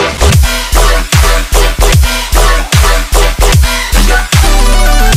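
Loud melodic riddim dubstep plays alone: heavy, repetitive bass stabs chopped into a steady rhythmic pattern with bright melodic synth layers, punchy drums and a sustained bass note closing the loop.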